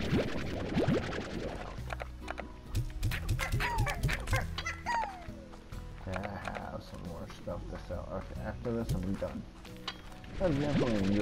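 Chickens cluck in the video game Slime Rancher, with repeated short clucks and squawks heard under a person talking and game sounds.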